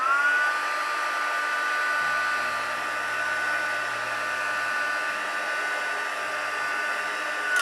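Heat tool blowing to heat-set paint, a loud, continuous airy hum with a steady motor whine held close throughout, shifting slightly in pitch partway through.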